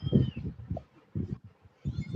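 A house cat meows several times, close by, with short pauses between the calls and no talking over them.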